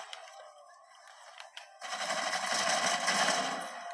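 Pistol gunfire in a video game: brief, sharp shots in the first half, then a dense burst of rapid crackling gunfire that continues to the end.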